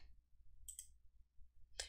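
A computer mouse clicks the OK button in Microsoft Word 365, giving two quick, faint clicks against a quiet low background hum.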